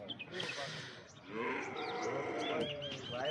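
Local Banaskantha cows low in a drawn-out moo amid farmyard ambience, with people talking nearby and faint bird calls.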